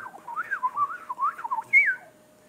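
A person whistles an imitation of a house finch song, a fast warbling run of rising and falling notes in short bursts, ending on a higher note, close and clear with no talk.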